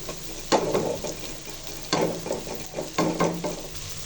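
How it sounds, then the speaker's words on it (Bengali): Eggs being scrambled and fried in a pan for egg vegetable fried rice, with a continuous sizzle broken by repeated scraping and stirring strokes in irregular bursts, close by and with no talking. "ডিমগুলো স্ক্র্যাম্বল করে নিয়েছি"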